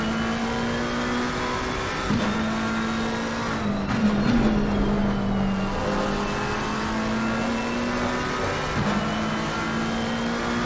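Race cars battling in the Assetto Corsa Competizione racing game, including a McLaren, with engines droning loudly and continuously, their pitch rising and falling through gear changes. A brief dip around the middle comes before the steady roar picks up again.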